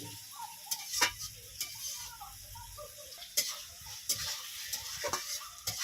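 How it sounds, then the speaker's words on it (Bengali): A spoon stirs nate bene greens in a pan with ground cumin, fennel and coriander. Irregular clicks and scrapes sound against a faint background sizzle. "দিয়ে খুব সুন্দর করে নেড়ে চেড়ে নামিয়ে নেব।"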